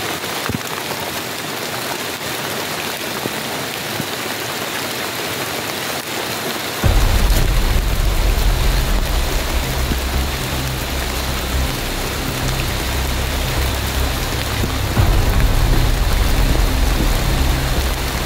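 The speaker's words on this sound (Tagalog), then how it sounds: "Grabe, ulan dito mga tol" Heavy rain pours steadily and loudly outdoors, a dense hiss that grows even stronger partway through with a deeper rumbling roar, and no voices are heard.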